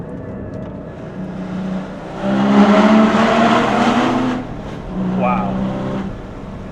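Loud Porsche 981 sports car exhaust roaring and revving up close, echoing off the walls of an enclosed space, with a brief exclamation from a voice.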